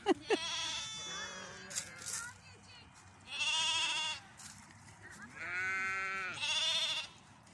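Lambs and ewes call back and forth in spring, with several loud, close bleats in bursts of varying pitch, separated by short quiet gaps.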